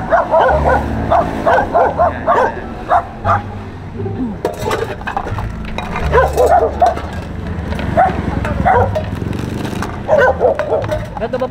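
Several dogs bark and yip in quick, repeated bursts nearby, with some whimpering between the barks.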